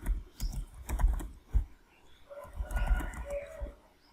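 Typing a search on a computer keyboard, several quick separate key taps at close range followed by a short burst of clicks, with no talking.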